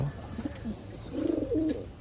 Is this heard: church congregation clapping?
no